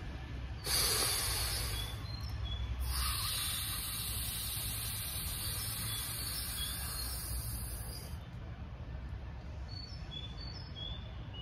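A yogic cooling breath is let out slowly through both nostrils as one long, soft, airy hiss, while faint birds chirp now and then in a quiet background.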